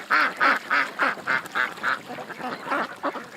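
A flock of ducks quacks in a close, loud series of about a dozen rhythmic calls, regular at first and then quicker and more ragged.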